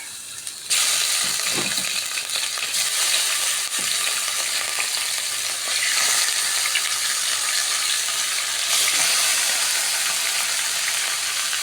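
Meat dropped into hot fat in a pot sets off a loud, continuous frying sizzle that swells and holds steady for several seconds, close up with no voice.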